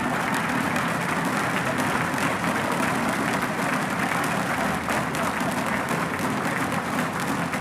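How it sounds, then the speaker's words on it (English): A large audience applauds the top four students at the 2024 MATHCOUNTS National Competition Countdown Round, steady, full clapping with a low crowd murmur beneath it throughout. "Please give a loud round of applause for our top 4 students in the 2024"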